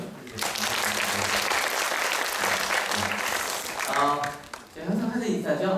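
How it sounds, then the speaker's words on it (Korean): Church congregation at a Korean Sunday service breaks into sustained applause for first-time visitors, a dense clatter of many hands with voices talking over it and a speaking voice coming in near the end. "박수 한번 부탁드리겠습니다."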